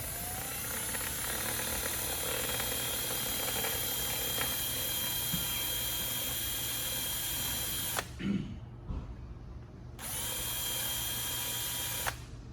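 A power drill spins its bit into material during a rear deluxe install, whirring steadily and loudly for about eight seconds, stopping briefly, then starting up again.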